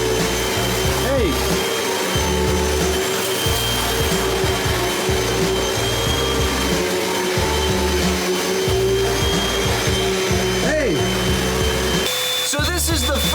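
A vacuum cleaner roars loudly and continuously through a studio set room, with bumps and scraping as it moves across the floor.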